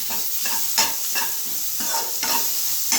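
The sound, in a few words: stirring spices in a hot pan for egg noodles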